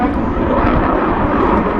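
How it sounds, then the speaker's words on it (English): Jet engine roar at the Teesside Air Show as the aircraft lights its reheat, a loud, broad, continuous blast of noise that fills the whole clip. "switching the reheat on"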